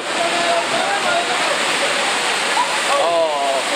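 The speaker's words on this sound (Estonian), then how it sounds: "See on siin üks mägi jõgi" A rushing mountain river roars steadily along a waterfall trail, a loud, continuous broadband wash of water close by, with faint whistling or voice-like tones surfacing briefly over it.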